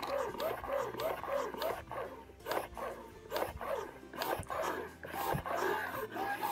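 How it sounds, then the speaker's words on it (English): A rhythmic mechanical whooshing and whirring from a Medela electric breast pump in letdown mode at its highest setting, cycling steadily, close by. "That is the Medela breast pump."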